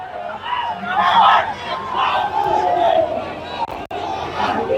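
Protesters massed in a Jaipur street form a dense, loud crowd, with overlapping voices and shouts rising and falling in a continuous babble close by.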